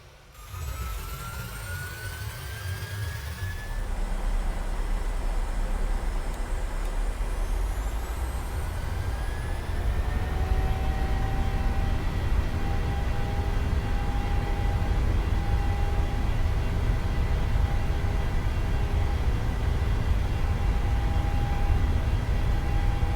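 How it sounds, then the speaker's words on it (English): Boeing 737 jet engines spool up for takeoff on a runway in a PMDG flight simulator, a loud continuous roar with rising whine that builds and holds steady throughout, with no talking. "We're lined up on runway 9 right and just been cleared for takeoff"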